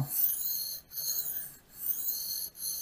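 A knife blade is drawn across a Glasstone grit 500 whetstone in steady rhythmic strokes, a close hissing rasp repeating roughly every three-quarters of a second with brief pauses between passes, no talking.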